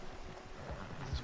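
Horse wading through water in the game Red Dead Online: a second of soft sloshing and muffled hoof splashes, with a low thumping splash near the end, close and fairly quiet.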